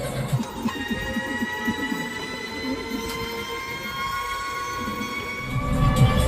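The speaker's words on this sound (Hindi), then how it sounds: "ट्रेन जा रहा है भैया, ये अयोध्या धाम स्टेशन है क्या?" A train rolls steadily past near Ayodhya Dham station in India, a continuous close rumble of wheels and cars with high metallic tonal whine and squeal sustained throughout, growing slightly louder at the end.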